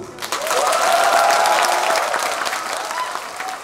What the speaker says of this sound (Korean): 잘하셨다. 박수!